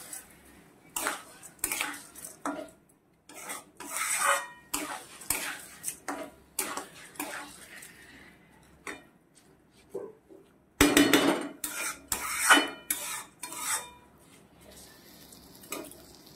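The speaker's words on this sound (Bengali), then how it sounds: "চালটাকে আমি একটু ভালোভাবে ভেজে নেব।" Three cups of raw rice dry-roasting in a pan for muri ghonto, stirred with a utensil that gives repeated clattering scrapes and clinks against the metal in an uneven rhythm, close and moderately loud, with short pauses between strokes.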